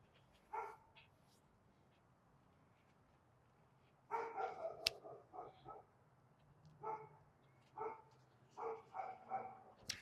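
A distressed dog barks in repeated bursts, with a single bark early on and then a dense cluster of barks and yips, followed by several more spaced barks. The barking is moderately near, with no talk over it.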